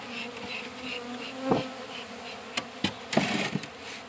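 Honey bees from a hive with a drone-laying queen buzz steadily close by in a continuous drone, with a few sharp knocks and thumps partway through.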